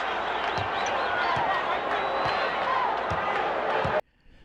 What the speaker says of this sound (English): Crowd responding to the defensive work by the Bulls